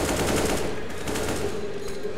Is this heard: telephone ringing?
no